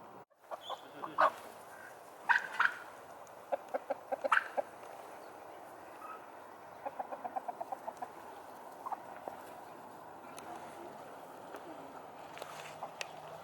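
Chickens cluck and call inside an organic henhouse on a farm, steady overlapping clucks near and far with a few louder sharp calls, over a constant barn hum and occasional footsteps.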